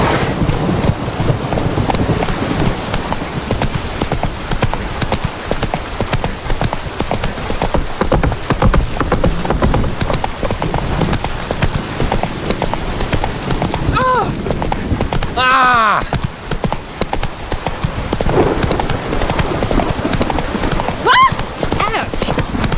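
Roach, the horse from The Witcher 3, gallops with rapid, loud hoofbeats in a fast, continuous rhythm, with wind and rain in the background. A short whinny sounds partway through, and a voice talks over it.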